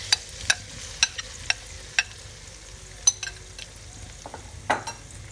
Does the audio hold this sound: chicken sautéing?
yes